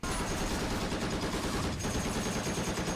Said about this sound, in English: No, he's got the machine gun.